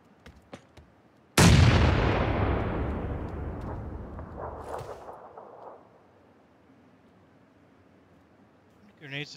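A grenade blast in the video game PUBG: one sudden, loud explosion with a long rumbling decay that fades over several seconds, preceded by faint clicks and followed by a brief later noise burst, with some talk present.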